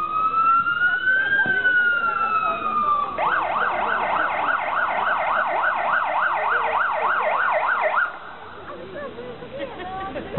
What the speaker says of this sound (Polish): Pojawia się straży, prawdopodobnie policja na sygnałach.